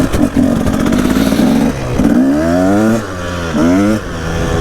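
A Husaberg TE 300 two-stroke motorcycle engine revs loud and close, rising and falling in several sharp throttle blips over a steady idle.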